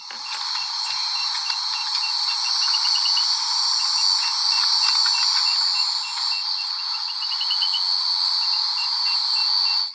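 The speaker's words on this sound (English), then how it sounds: "So let me just play the advertisement call." Advertisement call of a Singapore rainforest frog: a dense, steady high-pitched chorus of insect-like trilling with repeated pulsed notes running continuously and loudly throughout, with no talking.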